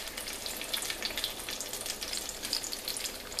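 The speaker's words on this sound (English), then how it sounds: "You want to lay your Panzerottis in carefully." Panzerotti pizza pockets fry in about a cup of hot olive oil in a pan, giving a steady close sizzle with faint crackles and spits throughout.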